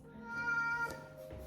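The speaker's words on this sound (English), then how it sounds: "Our cat really wants to go outside." Pet cat meowing to be let outside, a single drawn-out, tonal meow, faint and fairly close, followed by light background rustle.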